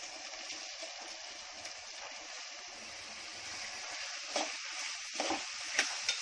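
Three medium onions and chillies sizzle in a pan for a Konkani egg and fenugreek bhaji, a soft, steady frying hiss with occasional sharper crackles and spatters near the end.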